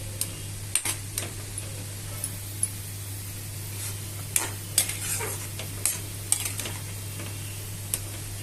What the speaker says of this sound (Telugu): అయితే పాలు పోసిన తర్వాత దీన్ని ఇలా వదిలేయకూడదండి. విరిగిపోతాయి. కదుపుతానే ఉండాలి